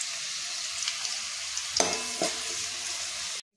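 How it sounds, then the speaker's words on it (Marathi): Garlic frying in hot oil until crisp gives a steady close sizzle with a couple of sharp stirring clinks, then cuts off abruptly at the end. "तर असा तळून घेणार आहोत आपण"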